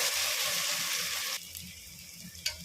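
Tomato with ginger garlic paste frying in a pan, a steady close hiss of sizzling that drops sharply partway through to a quieter simmer, with a single brief clink near the end.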